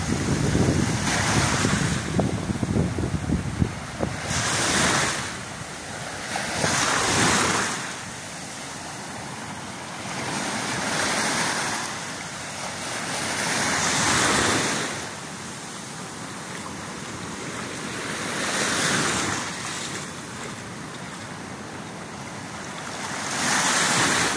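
Large ocean waves crash and wash in repeatedly near tied-up fishing boats, each surge swelling then receding, with gusty wind roaring over the microphone.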